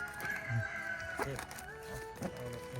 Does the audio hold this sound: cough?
no